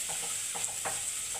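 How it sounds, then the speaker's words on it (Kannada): Onions fry in a pan, with a faint low sizzle and a few soft stirring scrapes close by. "ಇವಿಷ್ಟನ್ನು ಈಗ ಫ್ರೈ ಮಾಡ್ಕೊಳ್ಳೋಣ"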